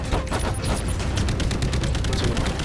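Missiles launched from a Jackal fighter in Call of Duty: Infinite Warfare's Jackal Assault VR mode, heard as a loud, steady barrage of rapid bursts and booms, with no speech.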